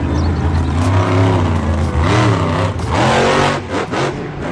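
A monster truck engine revs loudly and continuously, its pitch rising and falling through several surges with no voices.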